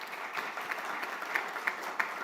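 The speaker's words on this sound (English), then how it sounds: "How about giving them a round of applause?" Audience applause at a school golf classic and summer party, a steady patter of clapping hands with a few sharper claps standing out, moderately loud and heard alone.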